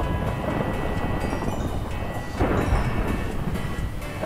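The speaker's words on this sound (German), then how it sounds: "Alter, wie das Gewitter gerade losgeht." Thunder rumbles from a storm in the Minecraft video game, a steady low roar with rain hiss and a louder surge partway through.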